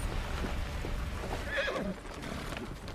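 A horse gives a sharp, rising whinny in the middle, over a steady background of clip-clopping hooves and a busy outdoor scene, at moderate distance.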